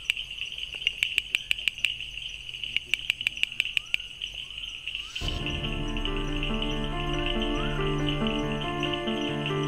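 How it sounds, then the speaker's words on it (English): A male bush frog calls near a kingfisher habitat, giving a rapid series of sharp repeated clicks in bursts against a steady high insect drone, before a louder, denser band of broadband noise takes over. "That's one male bush frog displaying."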